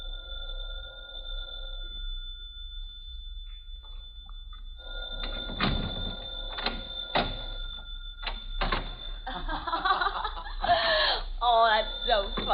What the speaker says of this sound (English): Just a minute, dear. It's the phone.